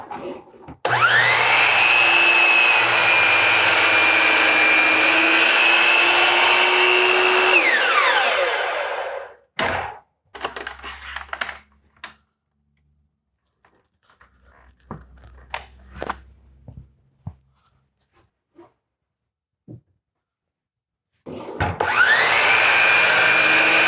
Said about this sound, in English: So I'm going to go ahead and cut this down to 30 inches long.